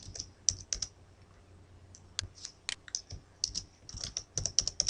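Brisk typing on a computer keyboard, with uneven runs of crisp, close key clicks and short pauses, and no voice over it.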